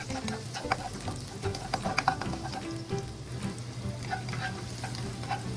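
Garlic sizzling in hot oil in a frying pan, a steady crackle joined by a scatter of stirring clicks and taps close by, with no voices.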